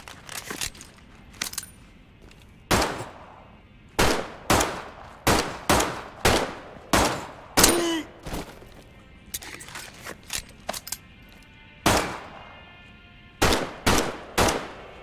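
P08 pistol gunfire in the Medal of Honor VR video game: a string of sharp, loud single shots at irregular intervals, some in quick pairs, with metallic clinks between them.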